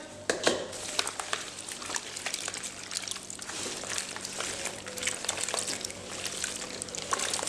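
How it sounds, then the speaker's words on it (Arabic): Dates getting a second rinse in fresh water, heard as steady close sloshing, trickling and pouring, with small splashes throughout and no speech. "نغسل مرة تانية كده."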